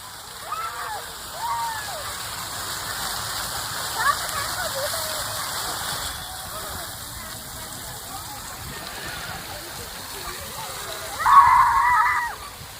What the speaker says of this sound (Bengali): এই ঝর্ণা দেখে নোয়া এত আনন্দ।